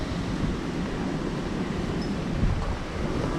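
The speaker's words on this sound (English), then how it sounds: "It is getting windy." Steady wind blowing along the Magaluf seafront, a constant broadband rush that fills the whole clip with little variation, with no voices.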